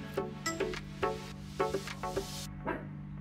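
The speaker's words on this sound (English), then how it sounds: "If you perhaps hear dogs barking in the background, you are not mistaken." Neighbouring dogs bark in the background, a run of about eight short, yappy barks in an uneven rhythm, fairly faint and distant over a steady low hum, with nobody speaking.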